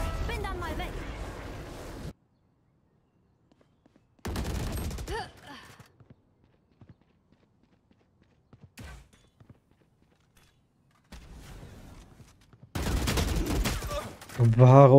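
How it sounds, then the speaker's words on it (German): Bursts of automatic gunfire in the tactical shooter Valorant come in several separate volleys broken by quiet gaps, loud and close with scattered footsteps and thuds between them. "Warum schieße ich denn drüber?"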